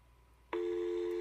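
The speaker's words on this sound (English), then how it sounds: "And we'll get dial tone shortly." Dial tone on a line through a PAP2T analog telephone adapter starts abruptly after a short stretch of quiet hiss, then holds steady and loud to the end.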